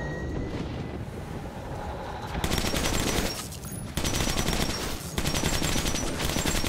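Rapid automatic gunfire from a hard-recoiling weapon in Metro 2033 rattles in dense bursts, loud and close, with a brief lull between volleys and a low rumbling wind-like background.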